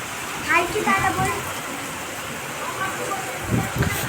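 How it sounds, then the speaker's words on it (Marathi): Steady heavy rain hisses throughout in Chhatrapati Sambhajinagar, with a voice speaking briefly over it near the start and a few low thumps toward the end. "आमच्या इकडं पाऊस दोन दिवस आलाय असंच आहे चालू"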